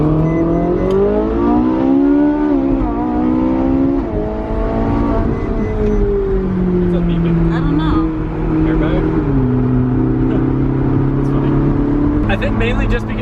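A car engine revs hard through a pull, climbing in pitch through several gear changes with drops between shifts, loud and close from inside the cabin.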